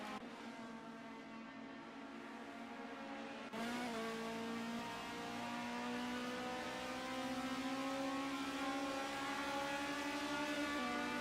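Race car engine in a sim racing game at Snetterton, a steady high-revving drone held close and loud throughout, pitch climbing gradually through a gear with a brief shift partway in.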